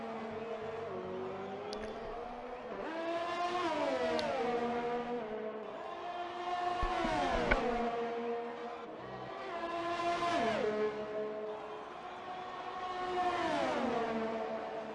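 Race cars on the long Baku straight in a PS4 racing game, engines screaming through repeated upshifts as pitch climbs and drops in waves, a continuous loud whine with brief clicks.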